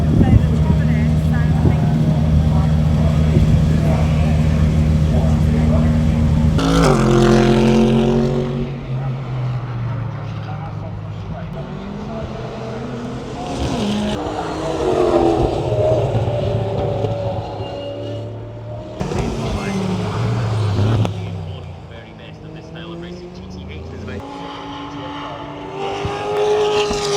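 Race cars, including a leading GT3 Porsche, roar past in bursts with rising and falling engine pitch, loud sweeps separated by quieter gaps, while people talk nearby at a racing event.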